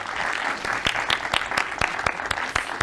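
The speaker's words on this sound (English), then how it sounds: "you may clap your hands." Audience applause at a Deutsches Museum ceremony marking a science exhibit handover, a steady wash of many hands clapping with distinct sharp claps punctuating it, fairly close and sustained throughout.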